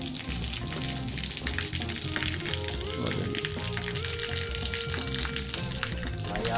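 Cold spring water pours from a tap spout in a steady, dense rush with no break, close by, with a voice speaking briefly over it and other background tones underneath.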